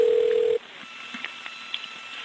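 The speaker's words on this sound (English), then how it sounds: "When they transfer me, boom, the line goes Dead." A steady telephone tone sounds after a transferred call to a loan service line drops. The tone cuts off abruptly, leaving a faint hiss with scattered small clicks on the line.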